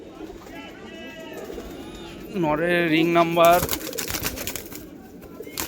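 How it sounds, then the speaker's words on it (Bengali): A pair of pigeons coo softly in the background while a person talks nearby, with a brief louder burst of bird calling midway. "দুটো পায়রা দেখুন"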